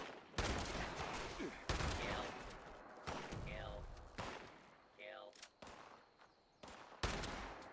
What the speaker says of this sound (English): I feel like the first shot should have hit compared to the second